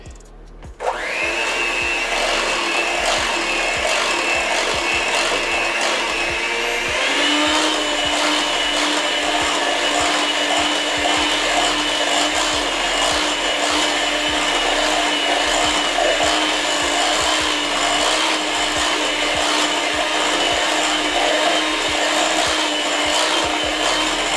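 An electric mixer whips velvet frosting in a bowl, a loud, continuous motor whir that starts abruptly and rises in pitch a few seconds in, then runs steadily with a scraping, grinding texture.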